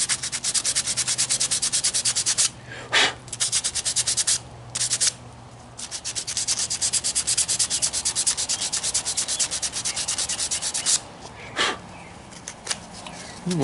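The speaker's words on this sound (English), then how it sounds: "We just want to sand it a little bit." Sandpaper rubs steadily over a thin whittled wooden knife, a close, continuous rasping stroke with a few short pauses, some louder scratches and no speech.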